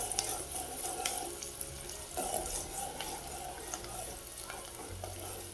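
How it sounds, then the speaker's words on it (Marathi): Onion sautéing in oil in a pan for Bihari-style mutton curry, giving a steady, close sizzle with occasional stirring scrapes, continuous and unbroken by talk. "कांदा जरा परतून घ्यायचा"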